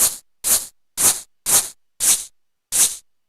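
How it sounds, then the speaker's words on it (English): Noisy, distorted drum hits from Alesis HR-16 drum machine samples tuned about halfway down: six loud, gritty bursts with sharp attacks and short decays, evenly spaced about half a second apart, with one longer gap before the last. "somewhere about halfway tuned down, you also get some interesting noisy artifacts."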